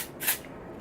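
A single quick hiss of OUAI texture hairspray lightly misted onto hair, a brief soft burst that fades at once into quiet room tone.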